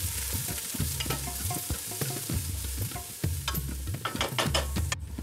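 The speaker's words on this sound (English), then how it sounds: "I've put 3 tablespoons of olive oil in this pot over medium heat. We're going to saute the onions and the celery." Onions and celery sauteing in three tablespoons of olive oil in a pot over medium heat, a steady close sizzle broken by repeated scraping stirs, with no talking.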